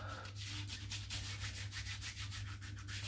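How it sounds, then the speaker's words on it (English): Hard triple-milled shaving soap is scooped out of its container, making a quiet, rhythmic scraping rub that repeats close up for a few seconds. "I'm going to try and scoop it all out"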